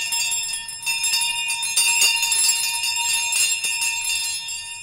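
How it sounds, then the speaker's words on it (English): Many bells ring together continuously, a dense shimmering clang of overlapping tones that stays loud and steady throughout. "Every bell in the house was ringing."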